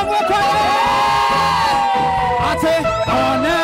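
A congregation at a Kikuyu church service bursts into cheers, loud whoops and shouted voices in a short, lively wave of crowd noise.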